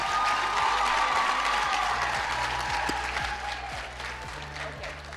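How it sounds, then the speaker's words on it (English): An audience at a national ICT summit gives a sustained round of applause, dense clapping filling the hall evenly before tapering slightly at the end. "Please give her a round of applause."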